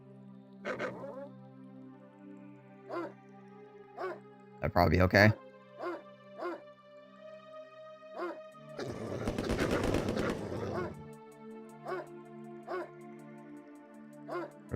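Attack dogs barking in the Command & Conquer Red Alert video game, with repeated sharp barks amid bursts of gunfire and a mid-clip noisy burst of battle, with a voice talking over the action throughout.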